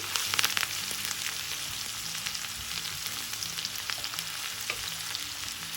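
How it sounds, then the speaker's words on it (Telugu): Curry leaves and a spoonful of ginger and small-onion paste fry in hot oil in a pan for a green moong dal curry, a steady close sizzle with crackling pops and a few stirring scrapes early on. "ఇప్పుడు వీటిని వేయించుకోవాలి."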